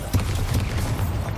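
A Bombarda blasting spell explodes in Hogwarts Legacy, a deep rumbling boom with rolling low-end energy that sustains loud and steady for about a second and a half.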